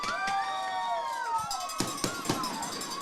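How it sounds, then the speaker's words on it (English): Fireworks burst at a high school football game in Hyden, Kentucky, with a few sharp cracks cutting through steady crowd noise and a distant public-address voice. "Fireworks are flying."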